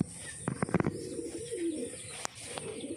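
Four pigeons gathered in one spot coo softly nearby in low rolling phrases, with a quick burst of sharp taps at the start and a single click later on.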